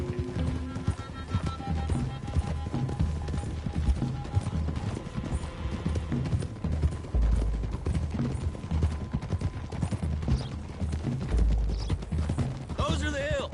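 Horses ride along a dirt road in the Western video game Red Dead Redemption 2, with a steady, busy clip-clop of several sets of hooves throughout and faint game sounds underneath.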